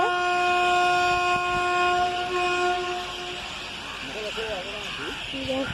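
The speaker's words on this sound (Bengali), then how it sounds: "রিকি পান্ডে ট্রেনটা চলে আসছে।" A train sounds a long, steady horn as it passes through a railway station platform, followed by rumbling carriages, while people speak nearby.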